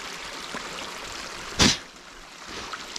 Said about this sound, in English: There's like a little waterfall there.